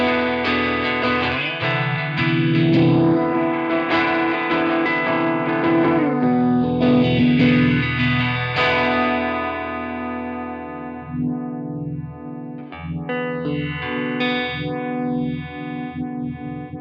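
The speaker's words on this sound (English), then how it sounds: "At slow speeds, we were able to increase the range of intensity over most traditional vibe effects to add versatility to some slow sweeps." A Strymon UltraViolet vibe pedal at minimum speed and maximum intensity treats a sustained electric guitar: ringing chords swell under a slow, deep sweeping phase that rises and falls in long arcs, then plucked notes wobble through the same sweep.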